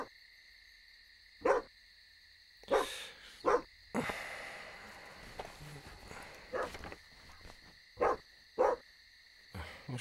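A dog barks in several sharp, separate bursts spread across the clip, fairly close, with footsteps and a steady high electrical whine in the background.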